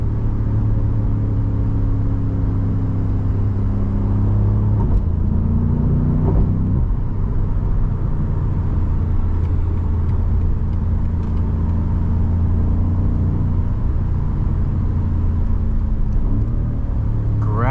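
A 2021 BMW M5 Competition heard from inside while driving, its engine giving a steady low rumble and whir with gear-change shifts in pitch, loud and continuous throughout.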